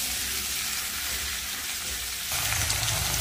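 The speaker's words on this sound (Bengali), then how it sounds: "আলু আর পেঁয়াজ কলিটা একটু ভেজে নেব" Potato pieces and spring onion stalks fry in a pan with a steady, close hiss that grows louder and fuller partway through; no voices.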